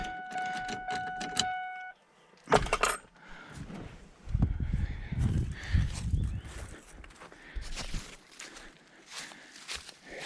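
A truck engine, seemingly jammed, is cranked in a few low, rumbling bursts that fail to catch, broken by pauses and scattered clanks; a voice is briefly heard near the start.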